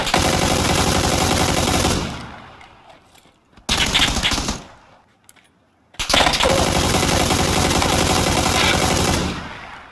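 Loud, close automatic gunfire in the video game PUBG comes in long sustained bursts, broken by a short volley and brief quiet gaps before another heavy stream of rapid shots.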